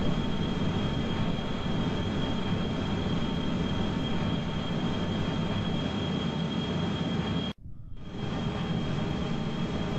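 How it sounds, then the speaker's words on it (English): Jet engines on a plane in Kerbal Space Program, the video game, roar as a loud, steady broadband drone that drops out abruptly for a brief moment near the end before resuming. "so I'm probably going to have the engines all flip out at the same time"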